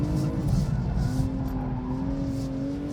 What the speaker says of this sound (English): that's me basically doing a drift